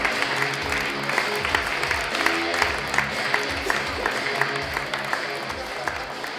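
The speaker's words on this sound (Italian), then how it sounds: "Continuate l'applauso per Lorenzo Siciliano" A live comedy-show audience applauds a comedian, steady dense clapping with some crowd noise and voices mixed in throughout.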